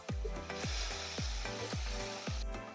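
Potatoes fry in hot oil with turmeric in a pan, giving a steady close sizzle broken by rhythmic scraping stirs about every half second, with no talking.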